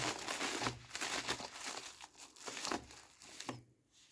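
A parcel holding an Optima blood glucose meter set is unwrapped up close, its packaging giving continuous crinkling and rustling with short tearing bursts, then a brief quieter moment at the end.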